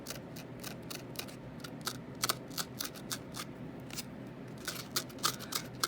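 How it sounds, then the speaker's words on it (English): Scissors snip through vintage paper ephemera at a corner, a quick close series of crisp cutting strokes in an uneven rhythm, faint but clear over a quiet room. "I'm going to cut that off at the corner"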